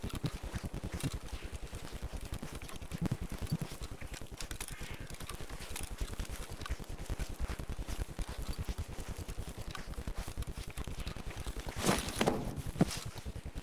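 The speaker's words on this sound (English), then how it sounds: "I just heard footsteps in that little cluster of buildings there to my right on the other side of this pipe" Footsteps in the shooter Escape from Tarkov, a quiet steady patter of steps over constant game ambience, with no talking.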